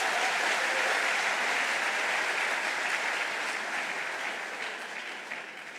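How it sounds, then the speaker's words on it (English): An audience at a university public lecture applauds the Vice Chancellor and his team, a dense, steady wash of clapping from many hands that gradually softens over about six seconds. "please, I would like really you to give a big round of applause to the Vice Chancellor and his team"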